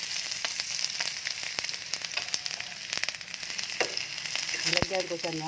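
Canned corned beef frying in a pan, a continuous crackling sizzle with occasional utensil scrapes and a sharp clack near the end.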